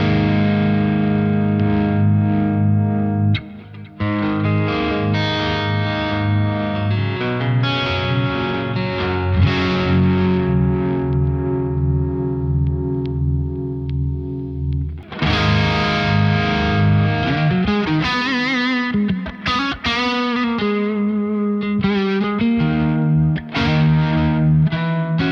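Electric guitar through a Jam Pedals Harmonious Monk pedal, heavily driven and chorus-tinged, playing sustained chords and then busier, choppier riffing after a short break, loud and alone with no talk.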